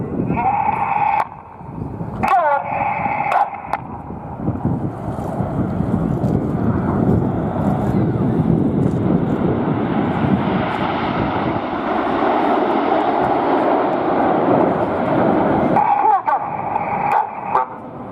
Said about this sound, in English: In from the left with some red and white smoke, this is Typhoon.